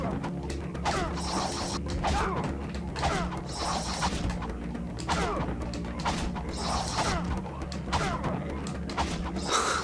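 Repeated metallic wrench strikes in Ratchet & Clank 3: Up Your Arsenal, a steady rhythm of whacks and clanks roughly every second over continuous game background sound and music.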